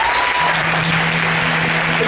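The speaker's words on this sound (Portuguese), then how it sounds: "vamos aplaudir o Senhor" Congregation at a Portuguese-language church ministry gathering applauds loudly and continuously, a thick unbroken roar of clapping with a faint sustained tone beneath.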